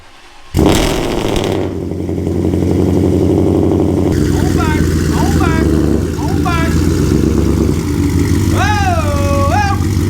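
Vehicle engine on a weight-reduced quarter-mile drag car cranks and catches abruptly near the start, then settles into a loud steady idle with a few short whistling and squealing sounds over it.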